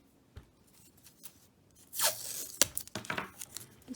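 Tape being torn off a roll while making a sketchbook pocket, one sharp rip followed by a few smaller crinkles and handling sounds, close and with no talk.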